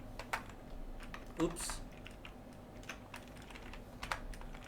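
Keys clack steadily on a computer keyboard as PHP code is typed during a coding session, with a run of quiet, irregular clicks and one brief louder knock partway through.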